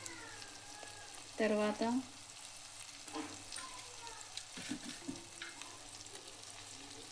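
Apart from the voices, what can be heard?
egg fry sizzling in a pan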